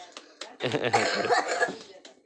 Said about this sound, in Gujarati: જો ઉધરસ થઈ ગઈ એનાથી જો